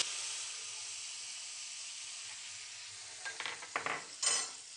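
Steady oily sizzle and hiss of mustard seeds and curry leaves tempering in hot oil, with a few brief bursts of crackling and spattering near the end.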